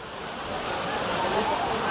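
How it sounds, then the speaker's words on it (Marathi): Broadband rushing water from a monsoon waterfall at Khondane cave near Karjat, a steady, fairly loud roar filling the scene without a break. "वाव वॉटरफॉल आहे."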